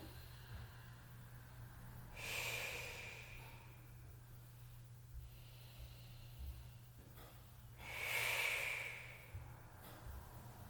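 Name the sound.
deep breathing during yoga forward fold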